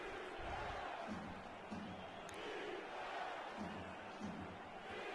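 A stadium crowd at a football game chants defense in a distant, rhythmic swell of massed voices, repeating in waves across the whole stretch.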